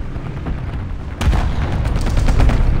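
A Merkava Mk.1 tank in War Thunder Mobile takes a sudden hit, with a sharp impact followed by a rumbling, crackling burst of gunfire and blasts that stays loud.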